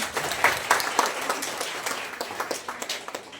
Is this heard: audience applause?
yes